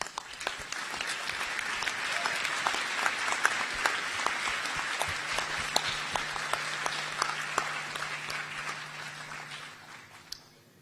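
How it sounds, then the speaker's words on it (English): A round of applause from the audience at a Monash University Malaysia graduation ceremony, sustained hall clapping with distinct individual claps that swells and then tapers off near the end. "round of applause"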